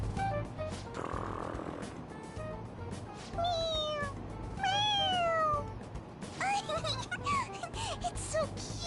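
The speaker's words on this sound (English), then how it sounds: "It meows when you press on its head." A stuffed toy cat in Persona 5 Royal gives several bright, rising-and-falling meows when its head is pressed, the cries repeating over a steady game background hum with some faint murmuring.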